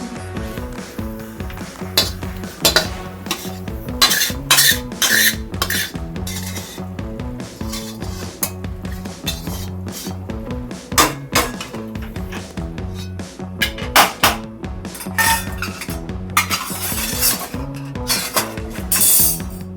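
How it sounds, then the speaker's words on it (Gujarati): A metal spatula scraping sukhdi, a ghee-rich jaggery and wheat flour mixture, out of a pan onto a plate, with repeated close scrapes, knocks and clinks against the metal in an uneven rhythm. "હવે આપણે એને થાળીમાં કાઢી લઈશું"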